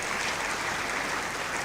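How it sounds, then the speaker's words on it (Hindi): An audience at a Brahma Kumaris spiritual gathering claps for themselves, a dense continuous wash of applause throughout. "ताली तो बजाओ अपने लिए"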